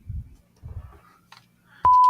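A single sharp, loud censor beep cuts in abruptly at the end, right after low, muffled talk.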